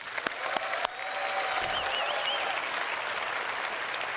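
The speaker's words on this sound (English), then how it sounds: "please give a round of applause for Leah, please." After a few sharp clicks, an audience at the CitizenCon 2024 convention breaks into steady applause that carries on evenly for several seconds with no voices over it.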